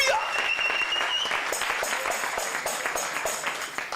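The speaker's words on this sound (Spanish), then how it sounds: "Dale fuerte las palmas al Señor" A church congregation claps loudly and steadily for the Lord during a Spanish-language worship service, a dense continuous wash of hand claps with some voices and a musical tone underneath.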